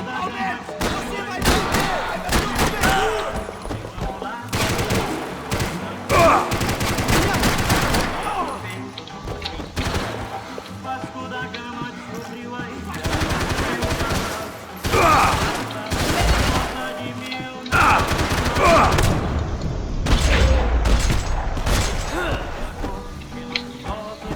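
Heavy gunfire in the video game Max Payne 3, dense volleys and bursts of shots packed close together with loud impacts, while a voice talks intermittently underneath.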